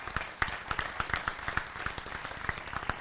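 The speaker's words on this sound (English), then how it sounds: "Can we please give her a round of applause?" Scattered audience clapping at a hall of fame induction ceremony, a sparse round of individual claps with uneven rhythm in an indoor hall, fairly close and moderately loud.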